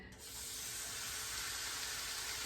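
Ground beef sizzles hard in a stainless steel pan heated on high until smoking, a steady, loud, bright hiss that swells just after the meat goes in and holds unbroken.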